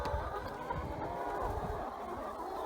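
A flock of about 49 laying hens cluck and murmur continuously, dense chattering close by on a farm.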